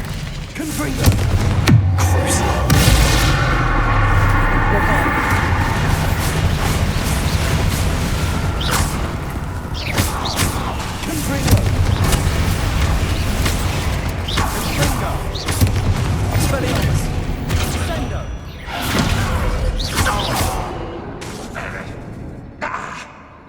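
Spell blasts from Confringo and Expelliarmus in the Hogwarts Legacy video game, a loud continuous barrage of booms, thuds and whooshes under game music, with spoken voices.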